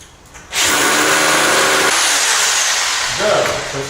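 A rotary hammer drill bores into concrete for floor anchors, a loud steady grinding roar that starts after half a second and runs to the end, with a brief voice near the close.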